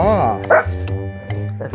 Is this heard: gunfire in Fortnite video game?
no